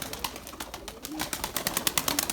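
Purebred Erzurum White breeding pigeons in a coop, giving soft repeated cooing calls that grow denser and more rhythmic toward the end, close and moderately loud with no talk.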